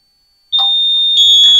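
A combined smoke detector in an Alerto+ alarm system starts suddenly after a brief silence, holding a loud, piercing, steady high-pitched tone to the end.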